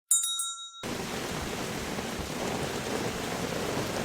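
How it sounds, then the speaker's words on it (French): Steady summer rain falling on a Sunday, a dense even hiss that fills the whole stretch after a brief high ringing chime at the start. "Une pluie d'été, tantôt fine, tantôt tropicale."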